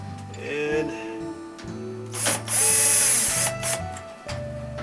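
Cordless power drill on a low clutch setting drives a metal screw into a plastic fitting on a clothes washer, whirring in several loud bursts with brief pauses and pitch shifts as the motor strains and stops.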